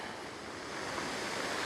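Ocean waves wash over seaweed on a rocky shore, a continuous close hiss of surf that swells slightly louder toward the end, with no voices.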